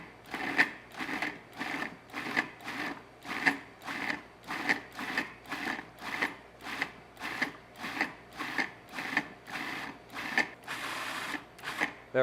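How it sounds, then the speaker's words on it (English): A food processor pulses fresh whole chives in a steady series of short, even whirring bursts with brief gaps between them, close and moderately quiet, with no talking. "all you do is pulse the processor"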